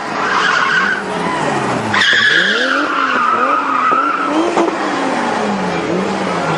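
A drifting Nissan Skyline race car slides with its rear tires squealing loud and close, the screech bending in pitch over a revving engine that swells and falls throughout.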